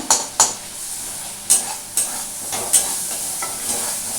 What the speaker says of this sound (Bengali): এটা ভালো করে একটু নাড়াচাড়া করে নিচ্ছি